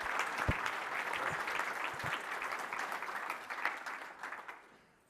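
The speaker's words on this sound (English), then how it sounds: "Round of applause, please." Applause from an audience at the JNUC 2024 Apple device management conference, a sustained crowd clapping that holds steady and then tapers off toward the end with a few louder individual claps.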